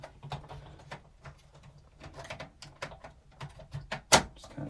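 Plastic upper shell of an N64 console being pressed back onto its bottom half, producing a run of close, faint clicks, knocks and rubbing sounds, ending in a sharper snap near the end.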